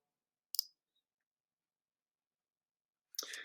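Computer mouse clicks in a quiet room, one sharp click and then another cluster a few seconds later, with silence between.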